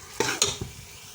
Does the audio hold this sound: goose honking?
no